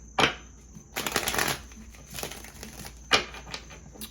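Tarot cards being shuffled in a few quick bursts of riffling and flicking, close and crisp with short pauses between.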